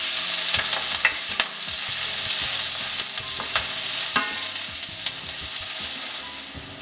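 Mustard seeds and onion frying in hot oil in a pan for a traditional Indian gatta curry, a steady loud sizzle with scattered seed pops and crackles throughout.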